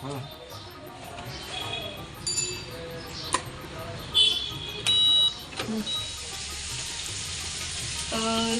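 Potatoes and broad beans frying in a pan, a steady sizzle running throughout with occasional clinks and bumps, while people talk nearby.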